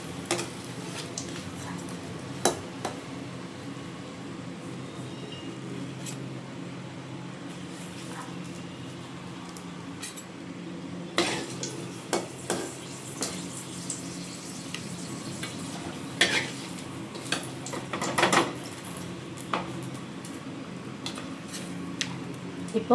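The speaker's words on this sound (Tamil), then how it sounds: "இந்த மாதிரி நல்லா அழகாக வதக்கி எடுத்துக்கோங்க" Eggplant being stirred and sautéed in oil in a pan, with scattered clinks and scrapes of a utensil against the pan over a low, steady background, growing busier toward the end.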